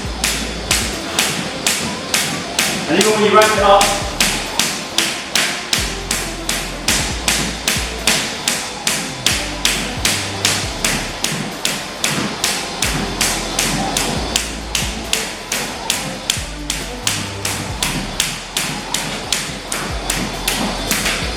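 Feet land lightly again and again while jumping rope, a steady quick rhythm of soft thuds and taps that runs the whole time, with brief speech partway through.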